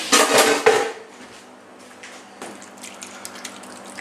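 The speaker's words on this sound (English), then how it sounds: "Get that pan out of the way." A metal pan clatters loudly as it is shoved aside on a kitchen counter during lasagna assembly, a short burst of clanking and scraping followed by quieter faint knocks.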